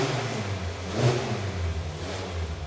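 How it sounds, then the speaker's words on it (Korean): A gasoline car engine under electronic control inspection revs up and eases back down, a steady mid-pitched hum that swells once near the middle and again toward the end. "다시 이제 가감속을 합니다."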